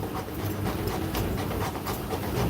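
Cane Corso dog panting in rapid, steady breathy puffs, close and fairly loud against a constant hissing background.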